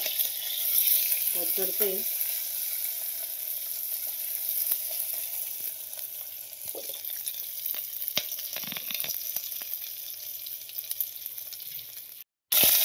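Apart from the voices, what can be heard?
garlic frying and sizzling in pressure cooker for sambar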